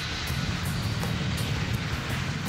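Lockheed C-5 Galaxy military transport aircraft at Dover Air Force Base, a steady loud broadband engine roar with wind noise, continuous and close, with no voices.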